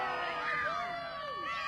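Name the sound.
wrestling crowd booing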